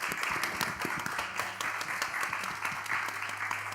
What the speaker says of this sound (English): if we could have a round of applause for our speakers